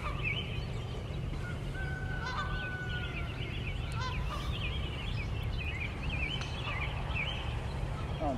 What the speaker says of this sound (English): There's literally geese running across the green right now.